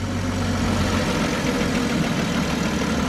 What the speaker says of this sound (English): Just turned the car on so the idling just settled down.